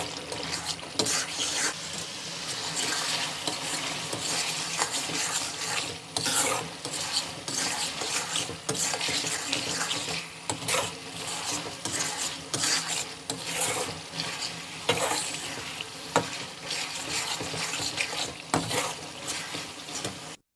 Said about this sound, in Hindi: दस मिनट हम तकरीबन इसको अच्छे तरीके से भूनेंगे।